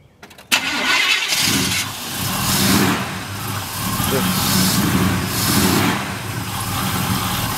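A supercharged Oldsmobile Cutlass engine with a carburetor problem cranks briefly and fires up, then settles into a loud, steady rumbling run with rises and falls as the throttle is blipped, close by and alone.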